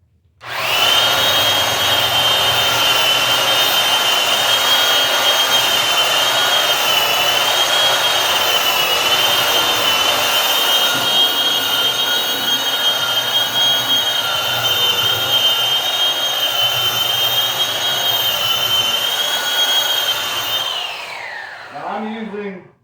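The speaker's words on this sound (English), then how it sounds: "I know I ain't going to be able to talk over this belt sander. It gets kind of loud." A loud, continuous belt sander with a 120 grit belt sands wood, whining and roaring steadily for about twenty seconds, drowning everything else, then spins down to silence at the end.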